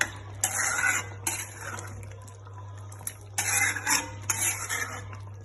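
A spoon mixes chicken maharani curry in a pan, producing bursts of scraping and clinking against the metal in irregular strokes, separated by quieter gaps over a low steady hum.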